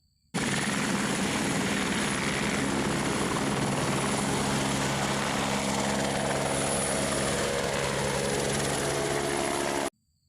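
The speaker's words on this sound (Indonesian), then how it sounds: "helikopter." A toy helicopter gives off a steady electronic rotor whir with a buzzing tone, loud and unbroken for about ten seconds, then stops suddenly.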